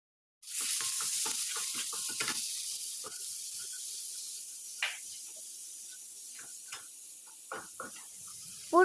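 Cumin seeds and turmeric sizzle in a pan on low flame, starting with a sudden hiss that slowly dies down while a spoon scrapes and taps the pan at intervals.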